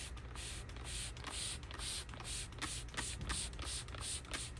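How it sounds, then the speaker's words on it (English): A spray bottle of isopropyl alcohol gives a steady series of quick hissing squirts, rhythmic and close, over a low background hum. "I'm just gonna kind of spray this whole area."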